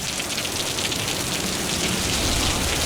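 Steady rain falls on surfaces with a dense, even hiss of drops, close and fairly loud, holding constant throughout with no voices.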